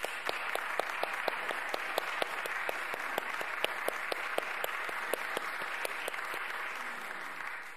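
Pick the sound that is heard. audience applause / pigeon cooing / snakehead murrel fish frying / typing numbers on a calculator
audience applause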